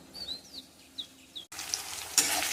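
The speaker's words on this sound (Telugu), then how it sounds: "కడాయిలో కరివేపాకు, టమాటాలు, వెల్లుల్లిపాయ, పచ్చిమిరపకాయలు వేసి చక్కగా వేయించాలి కొద్దిగా." Curry leaves, tomatoes, garlic and green chilies hit the oil in a kadai partway through, and a loud, steady sizzle takes over from the quiet background where birds had been chirping.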